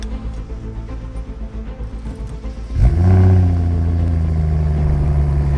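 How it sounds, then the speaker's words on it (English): Background clatter, then a 2013 BMW 335 engine cranks on a cold start and catches at about three seconds, revving high briefly before settling into a steady, loud idle. "let's get this BMW started and hear the sound of a cold start"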